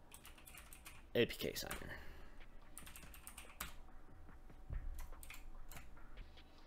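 Someone types a terminal command on a computer keyboard in quick, light, irregular clicks close to the mic, under a brief spoken phrase near the start.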